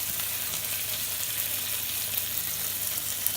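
Tofu scramble frying in a pan, a steady bright sizzle with soft crackling running evenly throughout at moderate loudness, with no voices.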